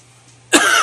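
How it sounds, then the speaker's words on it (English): A single sharp cough bursts out close and loud after a quiet moment, with a brief throaty rasp trailing off. "Still fighting that cough."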